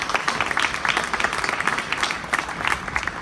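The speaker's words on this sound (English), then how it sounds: "will you please give them a round of applause?" Sustained, dense applause from an audience at a Gold Coast citizenship ceremony, steady and fairly loud for the whole stretch with no talking over it.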